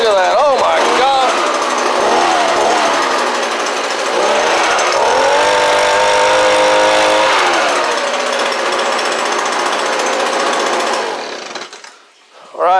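An ECHO ES-210 shredder vac two-stroke engine runs hard and close, blowing debris with a steady raspy roar that holds for about eleven seconds before it cuts out abruptly.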